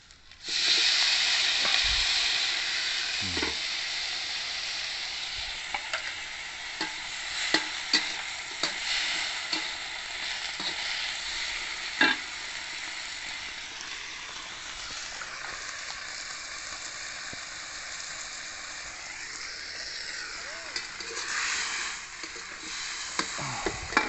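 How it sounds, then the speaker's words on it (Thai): Snow peas stir-fried in a hot pan, with a steady bright sizzle and repeated scraping and clacking of the spatula that runs throughout, close and fairly loud. "ผัดถั่วลันเตา ลงเลยใช่ไหม"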